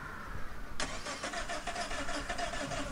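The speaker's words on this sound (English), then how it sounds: "your engine should be good to go, and you should be able to start the engine properly" A car engine cranks and catches in GTA 5 with a Back to the Future mod, a sudden loud start settling into a steady idling rumble with no talk.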